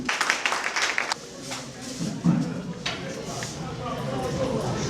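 Audience applause at a year-end ceremony of IGDE, a burst of clapping at the start that fades, followed by a voice speaking over scattered claps.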